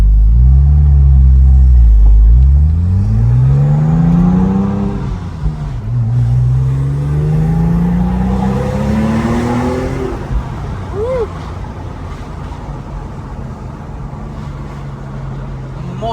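Porsche 911 Turbo with a Metzger engine heard from on board while driving: a loud, deep engine roar that rises and falls through revving and gear changes, then settles into a steady cruising drone.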